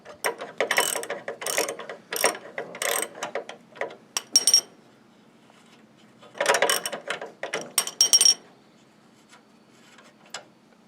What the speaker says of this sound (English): with a couple of socket sets, we'll see if we can get this nut and bolt off